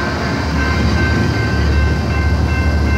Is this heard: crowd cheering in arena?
no